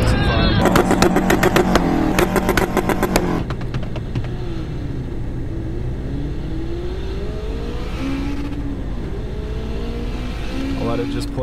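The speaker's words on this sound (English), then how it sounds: "Right here I'm racing my buddy's 2011 SS Camaro with forged internals and a Turbonetics turbo kit on" A turbocharged Honda S2000 races a 2011 SS Camaro with forged internals and a Turbonetics turbo kit: loud engine roar with a sharp revving burst at first, then a steady droning pull with gear changes, under a voice talking.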